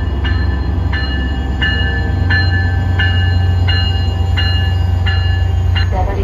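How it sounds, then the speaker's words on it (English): Amtrak or MBTA train approaching the Route 128 station, with a steady loud rolling rumble of wheels on track and a regular series of bright metallic rings or squeals repeating about every 0.7 seconds. "Train approaching. Please remain behind the yellow line."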